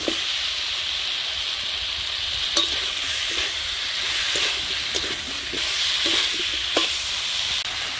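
Tomato and pre-fried potatoes go into a pan of spiced oil for a rui fish curry with drumsticks, giving a steady, close sizzle broken by intermittent clicks of stirring, with no talk.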